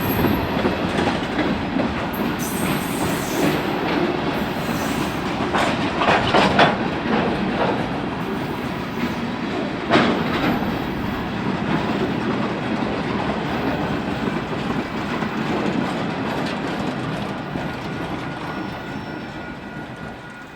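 A freight train rolls past on the Villa Grove Subdivision at Glenwood, Chicago, on a spring evening, a loud, continuous rumble of cars and wheels with clickety-clack rail joints and faint squeals for about twenty seconds.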